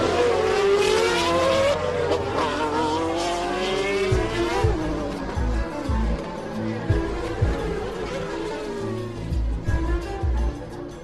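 Formula One cars launch at the start of the Brazilian Grand Prix, loud engines revving and shifting up in rising sweeps, then fading into a rumbling pack as cars pass by, with a commentator talking over them.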